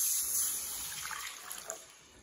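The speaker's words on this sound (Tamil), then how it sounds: "கரைச்சி வச்ச சோழ மாவு ஊற்றிப்போம்." Corn flour batter is poured into a hot pan while Bombay halwa cooks, making a short, soft, steady liquid pour with a faint hiss and no voices.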